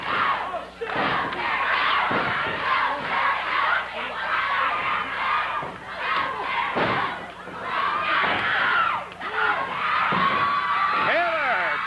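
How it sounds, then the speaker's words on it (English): A Memphis wrestling arena crowd in 1983 cheers and shouts loudly and continuously through a tag-team match, with thuds from the ring and a commentator talking over the noise. "Crowd really getting into it."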